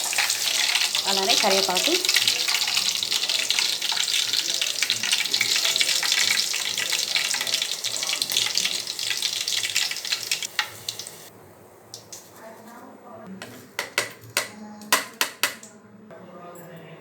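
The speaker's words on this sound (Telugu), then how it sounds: "ఇప్పుడు మనం పచ్చిమిర్చి ఫ్రై చేసుకుందామండి." Green chillies frying in hot oil in a home kitchen, a loud continuous sizzle for about ten seconds that drops away into softer crackles and a few sharp utensil clinks, with a brief spoken remark over it.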